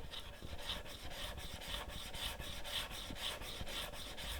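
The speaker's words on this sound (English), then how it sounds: "I'm going to rub to and fro just on the front third of the back of the chisel." A steel chisel's back rubbed to and fro on a fluid-wetted sharpening stone by hand, a steady rasping scrape with regular strokes about twice a second, continuous and close, with no talking.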